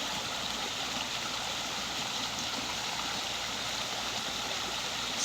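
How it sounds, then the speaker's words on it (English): Cold spring water perks up out of the ground on a road near McCarthy, Alaska, making a faint, steady bubbling and gurgling trickle with no voices. "Perking up out of the ground, right on the road."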